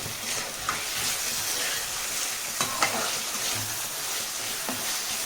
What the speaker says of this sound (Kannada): ಇದು ಸ್ವಲ್ಪ ಟೊಮೆಟೊ ಮ್ಯಾಶಿ ಆಗಲಿ ಅಲ್ಲಿವರೆಗೂ ಸ್ವಲ್ಪ ಫ್ರೈ ಮಾಡ್ಕೊಳ್ತೀನಿ